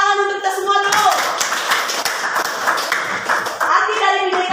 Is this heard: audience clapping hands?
yes